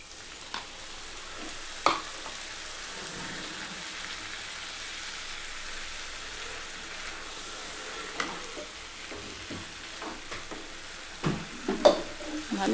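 Ground masala paste cooks in a pan for a yogurt-based katla fish curry, giving a soft, low, constant sizzle with occasional light clinks and scrapes from stirring.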